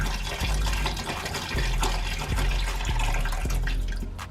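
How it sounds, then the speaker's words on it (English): Water poured into a snake's enclosure, a continuous close splashing and gurgling fill sound with a steady, fairly loud stream throughout. "here I am dropping in the water"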